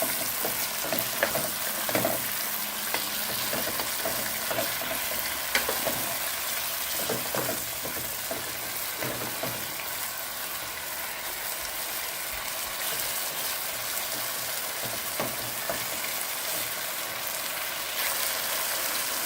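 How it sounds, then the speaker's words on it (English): Chicken pieces stir-fry in a spiced curry gravy over medium-high heat for a homemade Bangladeshi chicken curry, a continuous close sizzle with intermittent scraping and stirring knocks throughout. "I've been stir-frying my chicken in the gravy at medium-high"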